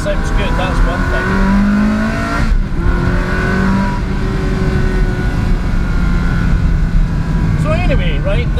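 Ferrari 360 Spider engine running steadily and loud throughout, its tone rising and falling with revs, with talking over it.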